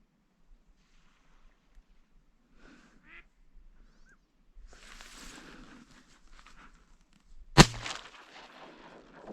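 A single loud shotgun blast fired at northern ducks on floodwater during an evening hunt over decoys, preceded by soft duck quacks and faint water rustle, then ringing briefly into the open air.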